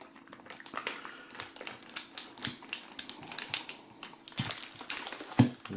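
A knife slices through a block of habanero pepper jack cheese, producing a string of small, sharp taps and crinkly scrapes at an uneven rhythm, close up and fairly quiet.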